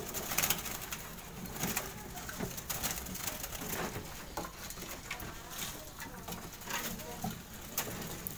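Local zebra doves (perkutut) cooing in a group of caged birds: soft, repeated rolling coos overlap through a busy, fairly loud background, with faint voices now and then.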